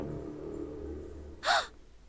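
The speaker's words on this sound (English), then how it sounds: "Then he began to hear his own breathing." A single sharp breath or gasp heard in the video game 999, standing out briefly and close over a low, muffled background hum.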